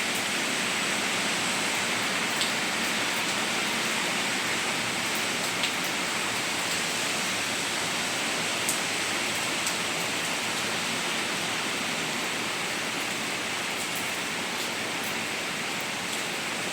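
Heavy rain pours down steadily in flooded Benidorm, a dense continuous hiss of water across the whole stretch with no breaks, close and loud, with no voices over it.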